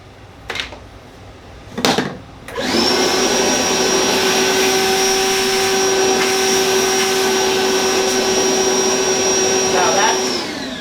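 A Dremel plunge router attachment #335-01 cutting 1/4 inch plywood: two short knocks, then the motor starts and holds a loud, steady high-pitched whine until the end.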